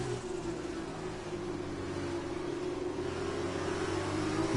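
Race car engine in the F1 2020 video game accelerating, a steady droning tone with layered harmonics rising slightly in loudness, fairly quiet and without talk.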